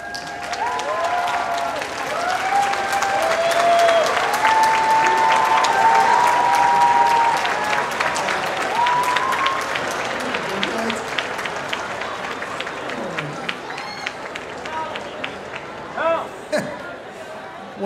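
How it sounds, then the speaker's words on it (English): Audience applause at a university graduation commencement, a long steady wash of clapping from a large crowd with a voice talking over it early on, gradually thinning with scattered claps toward the end. "offer them a round of thanks and applause"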